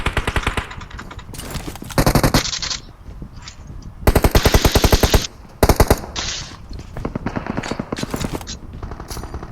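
Automatic gunfire in a battle royale video game roars in loud, rapid bursts, some long and continuous and others short, while a player talks over the shooting.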